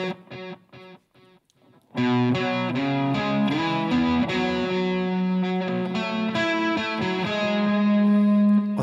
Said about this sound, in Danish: Med en lyd med noget, der er sådan indbygget ekko i den her forstærker.